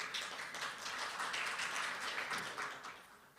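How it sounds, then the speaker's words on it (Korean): A conference hall audience at a Korean corporate governance and ESG event gives a soft, distant round of applause that swells briefly and then fades. "여러분 큰 박수로 맞이해 주시죠."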